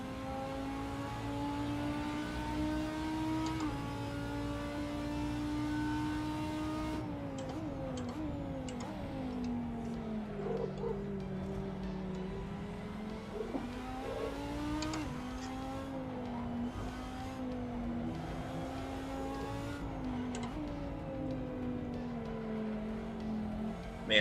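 GT3 race car engines in Assetto Corsa, following a McLaren around Willow Springs, with a steady, sustained engine drone whose pitch rises and falls through gear changes and corners, heard continuously without talk.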